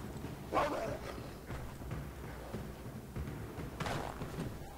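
Wolves in the video game Assassin's Creed 3 give a few short, muffled barks and growls, scattered across a steady forest ambience with soft thuds.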